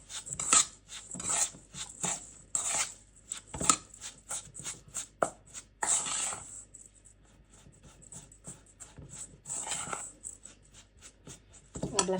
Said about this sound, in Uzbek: sariyog'ni hamma joyiga bir xil tekislikda aralashtirishimiz kerak